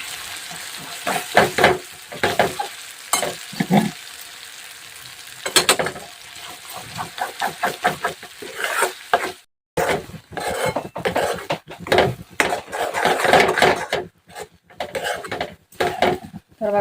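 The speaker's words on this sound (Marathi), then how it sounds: "तेलामध्ये छान तळून घ्यायचं आहे" A chutney mixture fries in oil while a spatula stirs it, giving a loud, close sizzle under repeated scraping and clattering strokes against the pan, with brief gaps and no speech.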